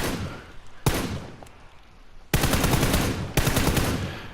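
Full-auto gunfire in the PUBG video game on PS4 comes as loud rapid bursts, with a single shot, a pause, then two sustained close volleys of machine-gun fire.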